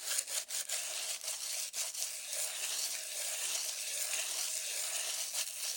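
Steady abrasive scratching of hand sanding the edges of a concrete bonsai pot, with rhythmic back-and-forth strokes, close and continuous.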